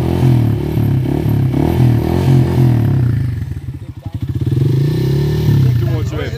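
A 150 motorcycle engine idles roughly, then revs up and settles, close and loud with some clattering.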